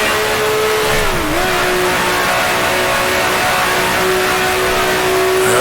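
A 1966 Formula One race car engine in Grand Prix Legends drones loudly at steady high revs, dipping briefly as it shifts up to fifth gear, then holding a sustained, even pitch.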